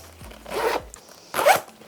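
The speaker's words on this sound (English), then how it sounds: "you've got a 2-way zip here, so you can come from this side or you can come from the other side" A two-way zip on the pocket of a Bellroy Classic Sling 5L bag is pulled twice, giving two short, close, raspy zipping strokes separated by a brief pause.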